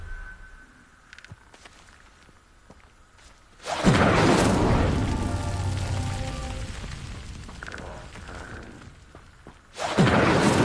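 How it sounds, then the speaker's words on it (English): Incendio fire spell lighting pyres in Hogwarts Legacy: a loud, sudden whoosh of flame that roars on for several seconds and slowly fades, then a second burst of fire flaring up at the end. "Incendio. Clearly, all three of these pyres are meant to be lit."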